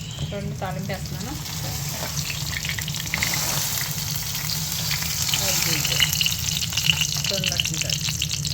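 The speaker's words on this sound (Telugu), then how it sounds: "చూడండి తాలింపు వేస్తున్నాను." Curry leaves and tempering crackle and sizzle as they fry in a clay pot for a South Indian charu cooked in Dubai. The frying is a steady, fairly close sizzle with scattered pops.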